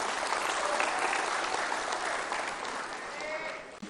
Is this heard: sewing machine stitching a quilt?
no